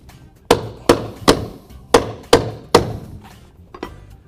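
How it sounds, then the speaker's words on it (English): A mallet knocks a laminate floor board into place to close an end-joint gap, six sharp wooden taps in fairly even rhythm, close and loud, with a softer tap at the end. "Before I tap this last board over, I'll put my weight on the previous board so it doesn't move as I'm tapping the last board in a row."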